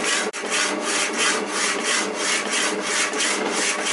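A hand saw cuts through the end of a long steel bolt in a home workshop, a steady back-and-forth rasping of even strokes, close and loud, with no talk.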